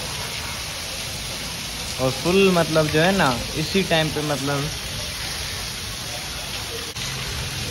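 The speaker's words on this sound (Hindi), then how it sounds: "लेकिन भाई ये देखें फुल तेज बारिश है" Steady heavy rain hisses throughout, with someone speaking briefly over it in the middle.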